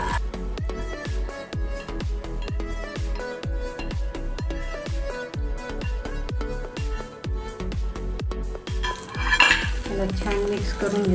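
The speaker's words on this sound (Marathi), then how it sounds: "त्याला छान मिक्स करून घेऊ" Curd rice with a poured tempering is stirred in a bowl, a spoon striking the rim in a quick, regular run of ringing clinks, close up, with a brief burst of scraping and sizzle near the end.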